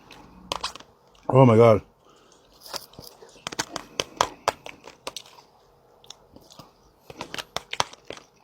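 Bites and chewing on a hot, spicy fast food burger with cheese: a loud crunchy bite early on, then a run of close, sharp chewing and crunching clicks, with a brief spoken exclamation.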